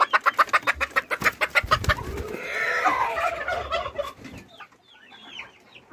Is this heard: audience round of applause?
no